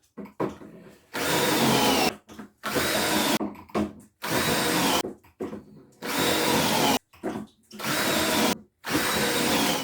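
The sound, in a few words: drilling pocket holes with a pocket hole jig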